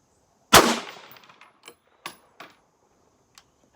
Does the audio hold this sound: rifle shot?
yes